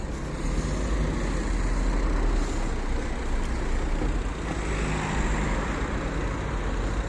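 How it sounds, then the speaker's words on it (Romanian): A car passes on a roadside where a hitchhiker waits, its steady low road rumble filling the stretch with no voices, the swell fairly even throughout. "a trecut o mașină de Arad"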